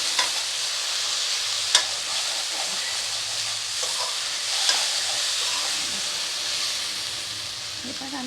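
Young drumstick (sajna danta) stir-fry sizzling steadily in a pan on low heat, a continuous soft hiss with a couple of brief clicks of stirring, no talk.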